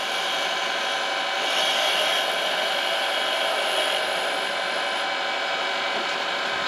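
Wood being scraped on a lathe while a T-handle corkscrew is shaped, heard as a steady, dense, rasping hiss over constant machine hum, loud and close without pauses.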